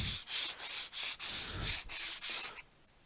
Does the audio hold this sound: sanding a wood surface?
yes